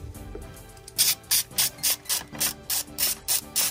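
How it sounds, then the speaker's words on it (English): A hand ratchet removing a 10 mm bolt from the intake on a BMW F80 M3, heard as a run of about nine evenly spaced, crisp clicking strokes close by after a quiet moment. "Then you need a 10 mil."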